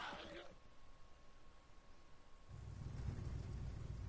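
A truck engine in a video game rumbles low and grows louder as it accelerates during the latter half, after a stretch of quieter ambient noise.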